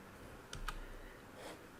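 Typing on a computer keyboard while opening a browser tab: a few faint, quiet key clicks, one cluster near the middle and another near the end, over a low background hiss.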